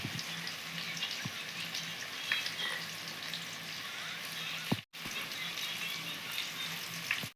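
Sliced onions sizzle steadily in hot oil for chicken biryani, a dense, even crackle that holds throughout, with a brief dip near the middle and no talking.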